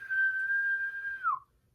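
A person whistles in a movie trailer: one loud, steady sustained note held for over a second, then a quick downward bend before it cuts off into quiet.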